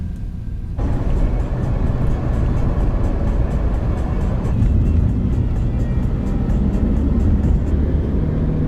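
A taxi drives along a road in Russia, a loud, steady engine and road rumble filling the cabin from start to finish, with no talk.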